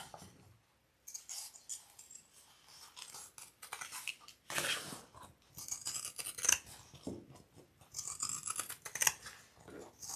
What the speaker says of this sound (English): I'm going to trim that down with my pinking shears again.